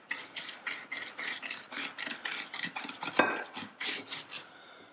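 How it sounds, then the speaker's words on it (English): A sharp knife draws along a halibut fillet to strip off the skin, producing a series of rhythmic scraping, rasping strokes against a cutting board, moderately close and fairly quiet. "We need to remove the skin off of this fish."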